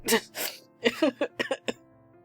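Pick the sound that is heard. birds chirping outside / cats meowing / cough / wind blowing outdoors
cough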